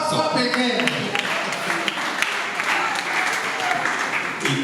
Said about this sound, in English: please, clap again.